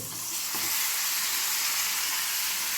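Green chillies frying in oil in a pan for citron pickle, a continuous dense sizzle with steady hiss throughout, close and even in level, no voices.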